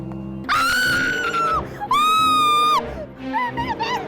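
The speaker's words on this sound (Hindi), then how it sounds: "तुम इस तरह क्यों चिल्ला रही हो?" A woman screams in a dark house after the lights suddenly go out during a Hindi horror drama, two long loud piercing cries in a row followed by a shorter wavering wail.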